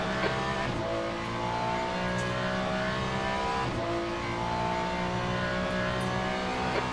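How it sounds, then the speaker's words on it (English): A faster-class race car closes in during a GT3 race in Le Mans Ultimate, its engine a steady loud roar with layered harmonic whine that holds throughout, with a brief surge near the middle. "There's a faster class car approaching."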